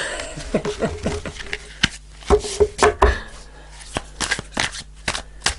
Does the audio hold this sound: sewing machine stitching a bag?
no